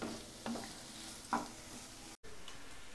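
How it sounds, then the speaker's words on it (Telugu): Prawns frying Andhra style in a pan, a quiet steady sizzle with a few distinct spatula scrapes as they are turned, heard up close with no talking and a brief dropout near the end. "ఇలా తిప్పుకుంటూ వేయించుకోండి. ఈక్వల్గా రొయ్యలు మొత్తం ఈక్వల్గా అన్నీ వేగిపోతాయి చక్కగా."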